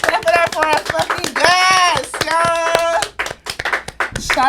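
Loud, close hands clapping in quick, uneven bursts to welcome a podcast guest, with excited voices talking and whooping over and between the claps.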